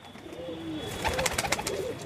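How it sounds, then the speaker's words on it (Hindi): A dobaz pigeon coos softly at close range in a short, low murmuring phrase, followed by a burst of fluttering and scratchy movement noise. "इनके ये कबूतर का बच्चा वो है दोस्तों दोबाज"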